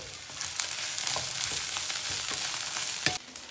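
Chopped dried mustard greens (meigancai) sizzle in oil with a little sugar and garlic as they are stir-fried, a continuous hiss broken by scrapes and clicks of the turner, ending with a sudden drop in the frying noise.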